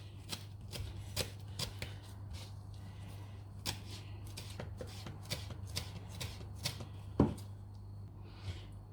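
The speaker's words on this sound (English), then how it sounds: "So I'm just going to go ahead now and chop my basil." Fresh basil being chopped with a knife on a board in a home kitchen, a run of irregular crisp taps and thuds over a steady low hum, with one sharper knock near the end.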